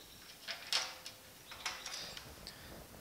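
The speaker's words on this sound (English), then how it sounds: "We're just going to put a C-clamp on here and basically just pinch this back in where it belongs." A C-clamp is cranked tight on the steel bumper splash apron of a 1950 Chevy truck, giving faint, sparse metallic clicks and scrapes close by in a quiet shop.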